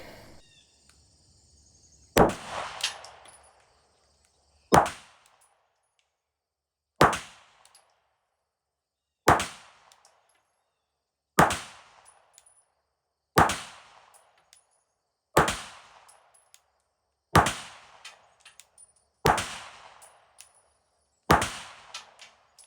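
Ten sharp gunshots fired indoors over a ProChrono chronograph, spaced about two seconds apart, each a loud crack followed by a short decaying echo, with no talking.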